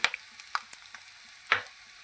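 Peanuts and fresh coconut frying in a pan for Andhra-style chutney, a quiet background sizzle punctuated by several distinct scrapes and clacks of stirring, no speech.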